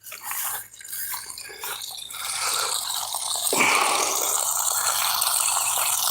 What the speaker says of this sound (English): Sounds like something's overflowing or something, or fell out the bucket